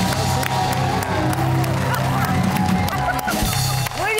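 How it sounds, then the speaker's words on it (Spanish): A talk-show studio audience claps and cheers for a guest, a loud, dense wash of applause with whoops and crowd noise throughout, dipping briefly near the end. "¡Un aplauso a Kevin Castillo!"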